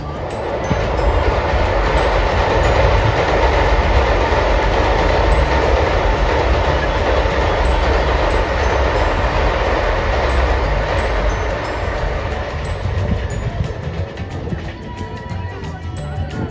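Train passing close by near Khirai railway station in a rural valley of flower fields, a loud steady rumble and rattle of wagons sustained throughout, easing slightly toward the end.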